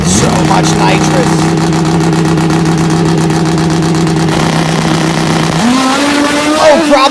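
A nitrous-fed drag motorcycle makes a drag strip run, its high engine whine holding a steady pitch, then rising sharply as it accelerates away, loud and close, with a commentator talking over it.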